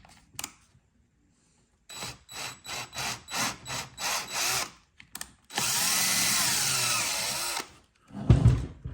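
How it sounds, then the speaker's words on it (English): A power drill bores out screw holes in a 1/6 scale tracked bulldozer model, with a run of short bursts followed by one long sustained whine, close and loud. "I'm going to drill out these holes for that same size screw"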